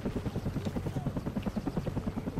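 A helicopter flies overhead in a video game shooter match, a steady loud rhythmic rotor thump that fills the whole stretch with no talking.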